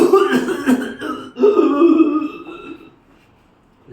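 A voice imitates a man coughing after eating bony fish: a run of harsh, close throat-clearing coughs in quick bursts, a pause, then another rasping fit that trails off.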